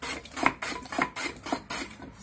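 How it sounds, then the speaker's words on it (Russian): Carrot rubbed in repeated rhythmic strokes across a Korean grater, about four scraping passes, close and fairly loud with no talking. "Морковку я натру на корейской терке"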